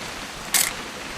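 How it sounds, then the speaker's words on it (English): A single quick camera shutter click in the game What Remains of Edith Finch, one bright crisp snap over a low ambient hiss. "Just want to get a shot of you, Dawn, then we can take off."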